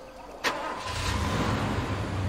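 A car engine starts in the Far Cry 2 video game: a sharp click, then the motor catches and settles into a steady, low idling rumble that continues to the end.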